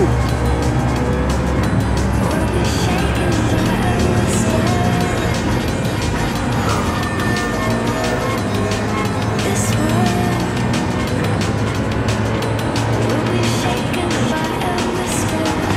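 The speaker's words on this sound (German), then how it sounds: "Der schaltet gar nicht mehr zurück, der fährt nur noch im sechsten Gang." Race car engine held high in sixth gear at Brands Hatch in a sim racing game, a loud continuous drone that stays steady for the whole stretch, with other cars and faint tyre noise mixed in.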